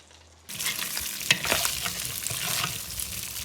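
Bacon and then sausage sizzle steadily in a pan for frijoles charros, starting abruptly after a short quiet lead-in, with utensil scrapes and clinks from stirring over a constant close hiss.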